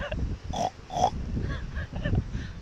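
A child imitates a pig with short oinking grunts, two or three quick bursts, close and fairly quiet, with speech-like voicing around them.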